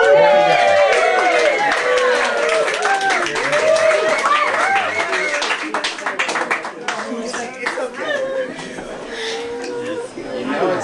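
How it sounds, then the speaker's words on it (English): Audience applause and clapping at a live steel-swallowing stunt show, a dense crowd of hands clapping steadily for several seconds with cheering and chatter mixed in. "give me a big round of applause"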